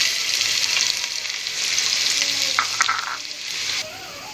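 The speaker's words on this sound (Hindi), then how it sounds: "तेल डाली 2 चम्मच तेल डाली। अब ये कांदा डाल रही" Chopped onion dropped into two spoons of hot oil for mutton yakhni pulao, frying with a steady bright sizzle up close, a few spoon scrapes and clinks partway through, and the hiss easing slightly toward the end, no talking.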